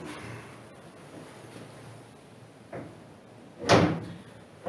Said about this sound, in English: Let's try and close it.